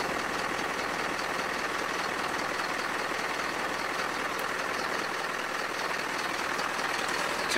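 A Mercedes Vario truck's diesel engine idles steadily at about 600 rpm, a constant low, rough rumble with a fine rhythmic clatter, close and unchanging for the whole stretch with no talk.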